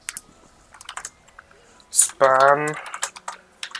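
Keys clatter briefly as a code is typed on a computer keyboard, a few quick soft clicks between and under a man's speech.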